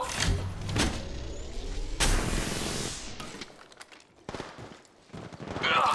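Bursts of automatic fire in Apex Legends, loud and sudden, with rapid volleys and a heavy impact-like crack, followed by quieter clatter and then a rising surge of noise.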